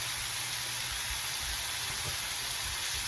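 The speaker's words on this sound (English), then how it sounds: "I will show you the sausage over here cooking." Sausage frying in a pan on a stovetop burner gives a steady, soft sizzling hiss, constant and even with no talking over it.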